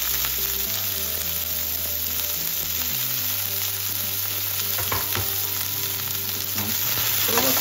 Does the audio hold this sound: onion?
yes